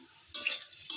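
Potato bhaji being stirred in a frying pan, a spoon scraping and turning the pieces in two short bursts over a faint sizzle, close and fairly quiet.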